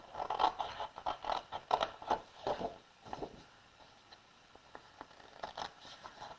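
Small scissors cut sections out of a card base in a run of quiet, close snips and scrapes, quick at first and then sparser.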